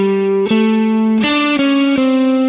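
Distorted electric guitar plays a short pentatonic lick with passing notes, sustained bent-sounding tones changing pitch in a few distinct steps, loud and close with effects and light reverb, no voices.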